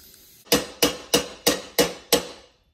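Six evenly spaced, sharp metallic hammer blows strike a heated exhaust pipe on a 1979 Mustang to dent it, each ringing briefly before the next, with a short decay after the last.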